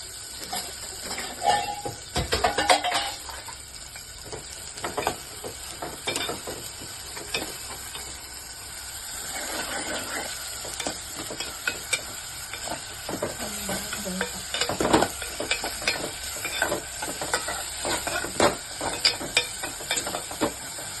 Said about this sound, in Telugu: ఉల్లిపాయలు వేసాము.